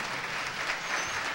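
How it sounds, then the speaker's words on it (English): Audience applause at a jazz concert during a peace conference in New York City, a steady, fairly quiet wash of many hands clapping at a distance with no voices on top. "We don't have too much time for applause."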